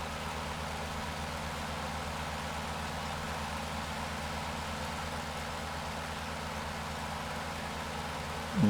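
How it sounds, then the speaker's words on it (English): A steady, droning aircraft engine hum at full power in Microsoft Flight Simulator 2024, flying over the Grand Canyon, continuous and even throughout with no talk over it. "Run the engine all the way up."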